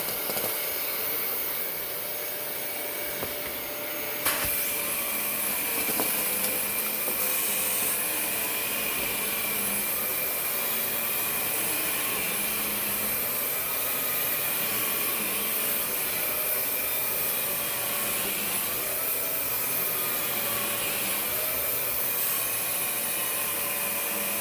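A Dyson DC39 canister vacuum cleaner runs steadily with its turbine brush roll switched off, giving a constant loud whine and broadband airflow roar that holds throughout, with a brief shift in tone early on.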